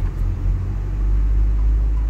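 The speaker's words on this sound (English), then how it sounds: "Whacking those fucking speed bumps at like 30." A car driven fast over speed bumps, heard from inside as a loud, steady low rumble of road and engine noise with no speech.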